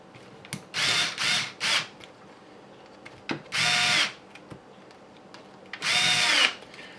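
A power drill drives screws during the build of a Wraith kit, heard in short close whirring bursts: three quick runs, then a longer one, then a final one after a pause, separated by faint handling clicks.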